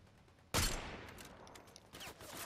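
A DMR rifle in the Fortnite video game fires one sharp, loud shot followed by a decaying echo, then a quieter second report.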